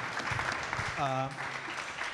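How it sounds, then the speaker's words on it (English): Audience applause at an early-stage investing night, a steady wash of clapping through the whole stretch with a voice briefly speaking over it in the middle. "So, round of applause for Alex."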